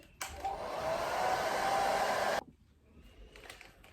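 A hair dryer fitted with a diffuser blows steadily and loudly on curly hair for about two seconds, then switches off abruptly, leaving quiet room sound.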